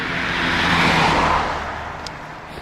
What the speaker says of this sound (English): All the traffic noise wouldn't bother you for the most part.